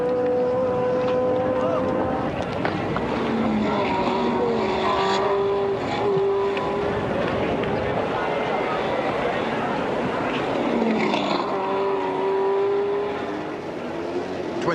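1970 Formula 1 cars racing at the Spanish Grand Prix at Jarama drone and whine continuously, with pitch rising and falling as cars pass, under a steady rumble and faint voices.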